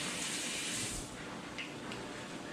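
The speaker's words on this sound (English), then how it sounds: "now you just let it fry" Funnel cake batter frying in hot oil for fair-style funnel cakes, a steady broad hiss and sizzle with faint crackles, close and continuous throughout.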